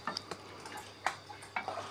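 Jengkol balado being stir-fried in a pan: a spatula scrapes and clinks against the metal in irregular strokes over a soft sizzle, close and moderately quiet, no voices.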